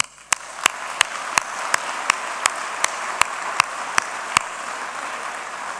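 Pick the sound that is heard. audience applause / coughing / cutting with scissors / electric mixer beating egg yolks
audience applause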